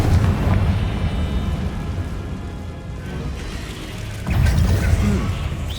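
In Hogwarts Legacy, a Confringo blasting spell strikes a barricade, giving a rumbling, crackling blast. A second, sharper burst of debris and impact comes near the end.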